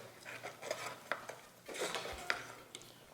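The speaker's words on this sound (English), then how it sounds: "So I'm going to stir more." A spoon stirs melon seeds frying in oil in a pot, with scattered scrapes and metallic clinks against the pot over a faint sizzle, quiet and close.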